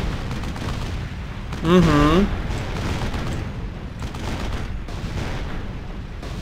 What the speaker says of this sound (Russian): Арты, стреляйте. Артиллерия уже может повыносить это все дело.